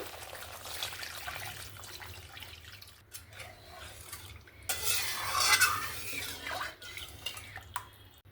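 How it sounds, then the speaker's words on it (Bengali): Spoon stirring a spicy chela fish curry with eggplant in a pan as water is poured in, giving close, steady scraping and swirling with soft splashing and light sizzle, busiest in the middle, with no talking. "এবার আমি পরিমাণ মতন একটু জল দিয়ে দেব"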